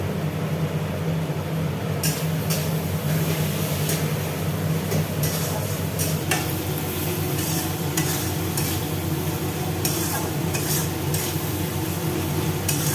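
Coriander and cumin powder fry in hot oil in a pan, a dense continuous sizzle with frequent scraping and clinking of a spoon stirring against the metal, loud and close with no talk.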